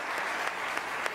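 Studio audience applauding a 1300cc car prize on a morning TV show, a steady wash of clapping throughout with a few sharper individual claps standing out, moderately close.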